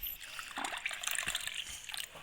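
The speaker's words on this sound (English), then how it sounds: "To this I'm going to add water, half a cup of water." Half a cup of water is poured into store-bought yogurt for a fried chicken marinade, a soft, continuous trickle and splash, quiet and close, with no talking.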